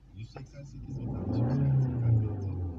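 A car engine revs as the gas pedal is pressed. A low rumble swells into a rising rev and then eases slightly near the end, with a voice briefly heard over it.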